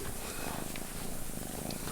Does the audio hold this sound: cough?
no